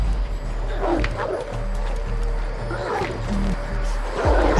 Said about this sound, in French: J'entends des chiens, je les vois pas.